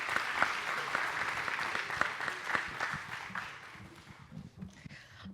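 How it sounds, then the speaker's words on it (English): An audience at an Alaska mariculture conference applauds the panelists, a steady round of clapping that gradually thins out and fades, with a few voices near the end. "Big round of applause for our panelists."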